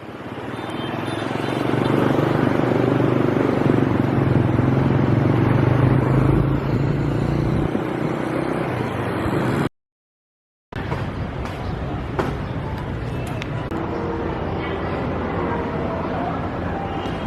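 A Grab motorbike taxi engine hums steadily with wind rush and surrounding Ho Chi Minh City traffic noise, louder at first, then continuing more quietly after a short cut.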